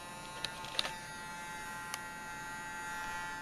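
A small, not very powerful vacuum unit runs with its suction on, giving a steady buzzing electric whine with a constant hum and a few faint clicks, alone without talking.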